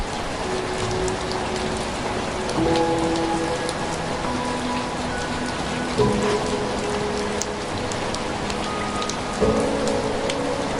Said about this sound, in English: these raindrops carving their way under the gate